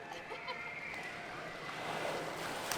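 Seabirds honking at the SeaWorld Orlando feeding area by the sea lions, a few loose goose-like calls over a busy outdoor crowd and water background that grows slightly louder toward the end.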